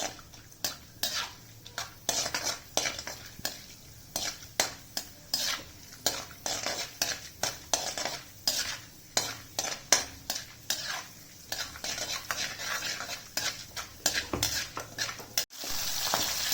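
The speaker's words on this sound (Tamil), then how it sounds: "கடுகு கடலைப்பருப்புலாம் நல்லா பொரிட்டுங்க எண்ணெயில்." Mustard seeds and chana dal fry in hot oil for a bitter gourd thokku, with steady crackling and sizzling. A metal spoon clinks and stirs against the pan in quick, irregular taps throughout.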